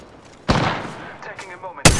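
Gunfire in the Apex Legends video game: two sharp, loud shots about a second and a half apart, with a short electronic ringing tail between them, no talking.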